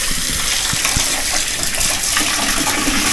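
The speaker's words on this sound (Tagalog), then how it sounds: "Lakas ng tubig." A campsite tap runs at full force, and the water gushes loudly and steadily in a continuous rush close to the listener.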